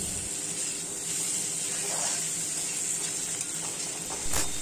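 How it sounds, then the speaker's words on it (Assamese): Pigeon meat stirred and frying in a pan, giving a steady close sizzle and hiss throughout, with occasional soft scrapes of a spoon and a brief louder burst near the end. "এইখিনি আৰু অলপ সময় লৰাই ভাজি আছোঁ যাতে মাংসখিনিৰ পৰা তেলখিনি ভালদৰে ওলাই যায়"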